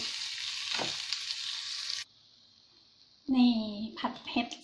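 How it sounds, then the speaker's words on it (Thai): Onion and mushrooms stir-frying in butter give a loud sizzling hiss for two seconds, then a near-silent pause, after which a voice talks over faint kitchen sounds. "ผัดไอ้นั่นก่อนหอมใหญ่ แล้วค่อยเอาเห็ดมันลองผัด ผัดใส่เนย"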